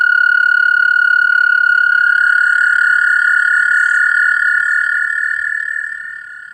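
A toad croaking in a stream gives one long, sustained, high-pitched trill with a clean, tonal buzz, close and loud, fading slightly at the end.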